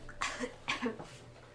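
A person voices an imitation of a cough, giving two short, raspy bursts close to the mic at modest volume, followed by a weaker trailing puff.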